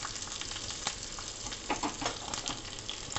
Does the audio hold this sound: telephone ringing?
no